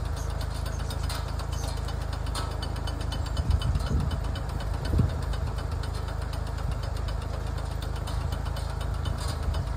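A tractor engine runs steadily nearby with a rhythmic mechanical knocking, and a couple of heavier thumps come as the power take-off engages to drive a fence post driver.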